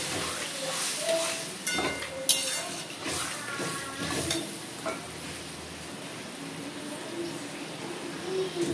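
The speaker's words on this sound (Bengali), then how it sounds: "আমি এখন জল দিয়ে দিলাম।" Water is added to a frying pan of soybean chunks and potato curry, giving a steady sizzle and hiss with stirring clatter and a few sharp spatula knocks.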